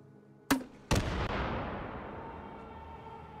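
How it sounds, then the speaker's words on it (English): Two sharp grenade blasts in the VR game Hot Dogs, Horseshoes & Hand Grenades, the first at half a second and a second louder one just after, each followed by a long rumbling decay that fills the rest of the moment. "Next, we will use a grenade."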